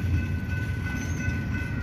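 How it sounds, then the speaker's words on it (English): A Union Pacific coal train rolls past, a steady close rumble of heavy rail cars with faint high wheel squeal over the continuous low drone. "it's pretty cool seeing two trains at once"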